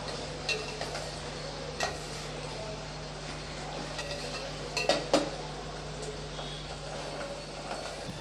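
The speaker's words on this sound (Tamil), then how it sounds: "எல்லாத்தையும் சேர்த்து நல்லா வதக்கி விட்டுக்கலாம். வெங்காயம் கொஞ்சம் நல்லா வதங்கட்டும்." Onions and curry leaves sautéing in a pan for a village-style fish curry, a low steady sizzle with intermittent clinks and scrapes of a spoon stirring against the metal.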